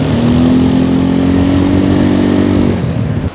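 ATV bike engine during a ride to the frozen Drung Waterfall in Gulmarg, Kashmir, droning loud and steady with a close, throaty hum that eases off near the end.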